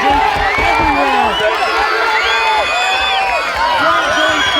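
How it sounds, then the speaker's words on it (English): Spectators at a boxing match roar and whoop for the hometown fighter, a loud, sustained wall of shouting voices with high yells and cheers rising through it. "Crowd going crazy for the hometown hero."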